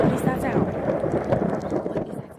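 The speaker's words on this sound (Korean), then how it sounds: "이제는 천둥까지 치기 시작하는데요." Low rumbling thunder rolls through a noisy outdoor scene, with voices talking faintly underneath.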